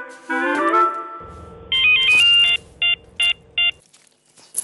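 A mobile phone rings for an incoming call: a short melodic tone, then a series of bright, evenly spaced electronic chirps that stop abruptly, heard up close with no speech in between.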